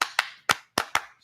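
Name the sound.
hand clapping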